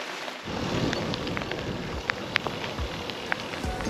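Rain pours down steadily with scattered sharp drops striking nearby surfaces during a windy ride, a dense, close hiss that continues throughout without voices.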